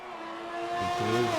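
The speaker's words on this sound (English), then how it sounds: "We have Vaughan on a flying lap in the Haas" Haas Formula 1 car on a flying lap at Monza in a racing video game, a high engine note climbing steadily in pitch through the gears, loud and continuous with no talk.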